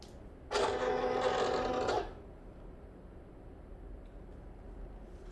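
A Silhouette Cameo 4 cutting machine ejects its cutting mat with a steady, close mechanical whir lasting about a second and a half, then stops abruptly into quiet room tone.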